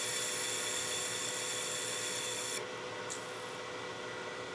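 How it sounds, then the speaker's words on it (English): Sandpaper held against a wooden Christmas gnome spinning on a woodturning lathe, shaping the curve under its hat: a steady, close whirring hiss that runs unbroken, easing slightly quieter partway through. "I'm using that sandpaper to help me get that radius out of the underside of the hat that I want."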